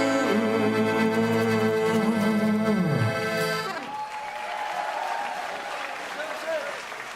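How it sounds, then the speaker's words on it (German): A sustained held note from a live band's song ends, giving way to audience applause and cheering at an Oktoberfest concert on a cruise ship, a broad wash of clapping that continues steadily through the rest. "Einen riesengroßen Applaus für die Jungs, bitte."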